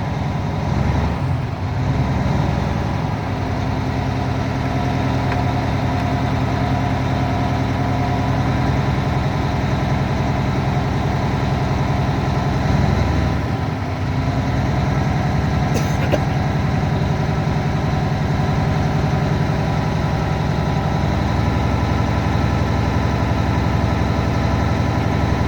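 Truck diesel engine idling steadily at close range during a pretrip air brake check, a constant low rumble with a brief hiss and shift as the air brake governor cuts out, no talk.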